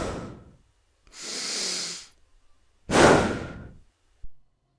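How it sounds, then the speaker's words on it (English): ASMR breathing, three slow, close breaths with long airy exhales separated by silence, followed by a short sharp puff at the end. "and then breathing ASMR"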